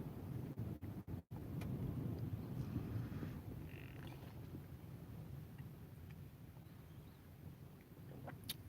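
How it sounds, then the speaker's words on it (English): Strong gusty wind of about fifty miles per hour roars steadily against the microphone, with a few sharp knocks and dropouts near the start and a faint rumble throughout. "Yeah, windy here. Hey Jackie. Like 50-mile-an-hour winds."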